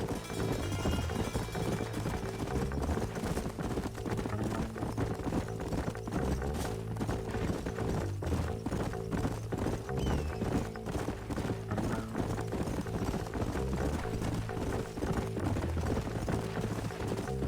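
A horse's hooves clip-clop steadily in the video game Red Dead Redemption on PS4, continuous and rhythmic beneath a dense, loud bed of in-game music and ambience, with no clear talking.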